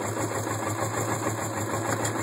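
A 1980 Suzuki GS450 S motorcycle engine idles steadily after a cold start, giving a continuous close, even mechanical hum with a low throb and no pauses.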